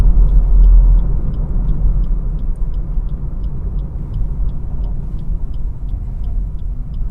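A car drives steadily uphill on a monsoon road near the Khopoli–Pen highway before making a sharp left turn, its engine a low continuous rumble with faint regular ticking, like an indicator, throughout.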